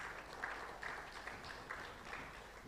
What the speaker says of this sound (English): A round of applause for Obadiah Mungai.